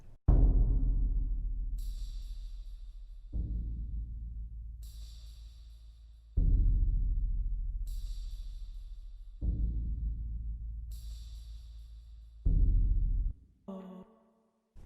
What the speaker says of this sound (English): kick drum and tambourine. So that by itself sounds like this.